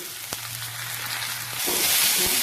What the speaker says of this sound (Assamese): অমিতাৰ ফুলখিনি এইখিনি ইয়াতে ঢালি দিম।